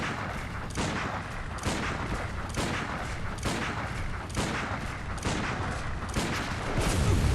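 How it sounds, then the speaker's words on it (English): Repeated loud gunshots fired in Bloodborne with a PC remaster mod, coming at a steady rhythm about every second, each a sharp broadband crack over a continuous rumbling game backdrop. "I'm gonna shoot the fuck out of this guy."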